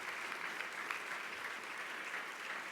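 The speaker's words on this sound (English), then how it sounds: "A big round of applause again," Steady, dense applause from a conference audience honoring panelists at a childhood cancer summit, an even wash of many hands clapping throughout with no pauses.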